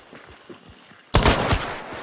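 Gunfire in the video game Hunt: Showdown: a single loud, close shot bursts in after quieter ambient rustling, ringing out briefly.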